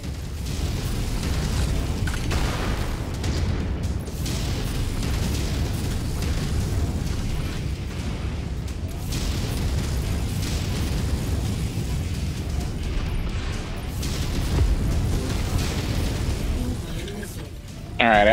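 Continuous autocannon turret fire and explosions in the Mechwarrior 5 video game, a dense rumbling barrage of booms and bursts throughout, with players talking over the battle.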